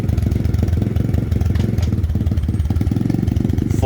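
A 2021 X-Pro Storm 125cc four-stroke dirt bike engine idles close by, a steady, loud low-pitched thumping pulse that holds even throughout with no other sounds.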